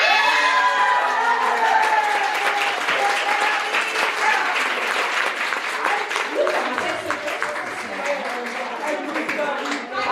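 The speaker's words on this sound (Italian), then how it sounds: "facciamo un applauso a questa meravigliosa coppia" Crowd applause for a couple at a live beauty pageant selection evening in Italy, loud sustained clapping with some cheering while a voice talks over it on a microphone.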